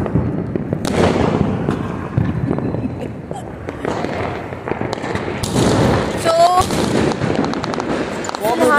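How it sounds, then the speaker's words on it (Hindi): Diwali firecrackers crackle and pop repeatedly nearby and farther off, sharp bursts over a constant noisy background with a few whistling rockets. "बहुत ज्यादा बहुत पटाखा है।"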